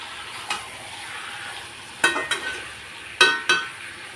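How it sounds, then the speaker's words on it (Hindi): A spoon scrapes and knocks against a kadhai as desi chicken is stirred and loosened from the pan, several sharp clinks in quick pairs over a soft steady sizzle, close and with no talking. "पहले अच्छे से मिला लेते हैं, क्योंकि कढ़ाई पे चिपक जाते हैं, तो उसको थोड़ा छुड़ा लेते हैं।"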